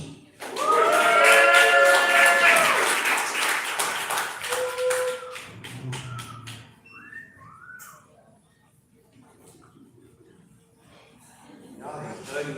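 A comedy club audience claps and whistles loudly for a comedian, the applause fading over several seconds, then quieter sounds and a voice speaking.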